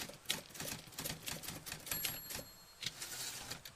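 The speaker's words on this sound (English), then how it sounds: "Typing." Typewriter keys clatter in rapid, irregular bursts with an occasional carriage bell ding, steady and close, no voices.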